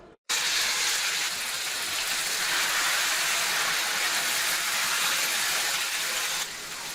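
Marinated chicken hitting hot oil: after a short silence, a sudden loud, sustained hiss of sizzling fills the scene, easing slightly at the end.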